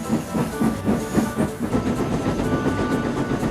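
Steam locomotive puffing in the style of Thomas the Tank Engine, rhythmic chuffs with hissing steam and a clickety-clack of wheels, steady and close.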